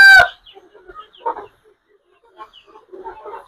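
A rooster gives a short, loud crow at the start, followed by scattered soft clucks and murmurs from chickens on a poultry farm in an otherwise quiet space.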